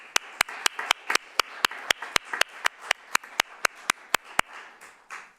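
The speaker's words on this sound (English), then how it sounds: "can we do a round of applause for Tracy?" Single pair of hands clapping in a steady, even rhythm at a council meeting, sharp isolated claps roughly every quarter second, fairly close and moderately loud, stopping near the end.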